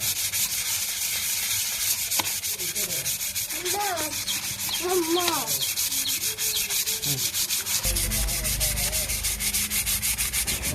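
A wooden cricket bat being sanded and polished by hand, with steady rapid rasping strokes running continuously close up; a few faint chirping bird-like tones sit in the background, and no voices are heard.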